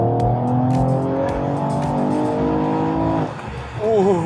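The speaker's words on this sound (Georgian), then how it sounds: "Sport Plus თუ ჩართავ მანქანა მიფრინავს რა" Mercedes-Benz E53 AMG accelerating hard in Sport Plus mode, engine note climbing steadily through the revs before a brief drop and renewed rise, loud and close from inside or near the car.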